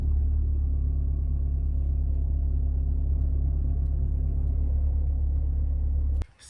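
A 2003 Honda Accord engine fitted with a ram air intake idles in a steady, loud, low rumble that continues unbroken, then cuts off abruptly near the end.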